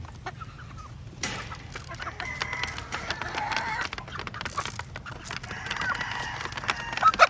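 A flock of hens clucking and squawking, busy overlapping calls that continue throughout, fairly close with a noisy outdoor background.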